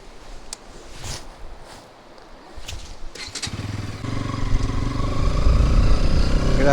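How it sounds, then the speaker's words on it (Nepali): A motorcycle sits near silent at first with a few clicks and knocks, then its engine catches and rumbles louder and steadier as boys push the bike up a steep, snowy mountain road. "केटाहरू चाहिँ बाइक धकाल्दैछ यहाँ उकालोमा"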